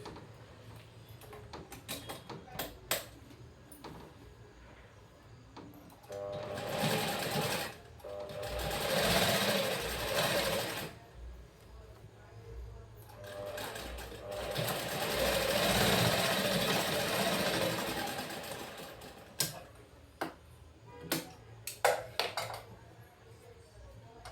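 A sewing machine stitches a blouse in two long, close bursts of rapid whirring, with clicks, fabric handling and small metallic knocks between the runs.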